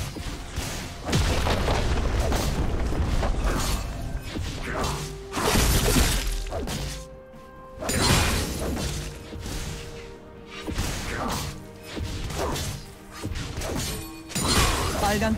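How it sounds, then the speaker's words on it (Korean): A turret destroyed in League of Legends, with loud crashing, shattering booms and heavy thuds recurring amid busy game effects and music, and an announcer voice calling out in Korean. "빨간 팀의 포탑이 파괴되었습니다."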